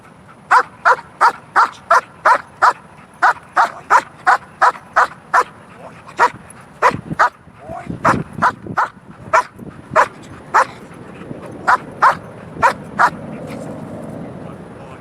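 A dog barks in a rapid, regular series of sharp yaps, close and loud, later broken up with scuffling and a few looser barks.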